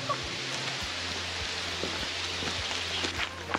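Rain falls steadily at the end of a hike, a soft continuous hiss with scattered patters close by, with no voices heard.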